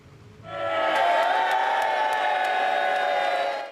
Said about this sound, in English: Watch Labour MPs cheer as Christian Wakeford walks to their side of the chamber